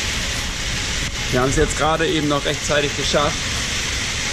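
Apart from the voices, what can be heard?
rain during a storm on a Maldives island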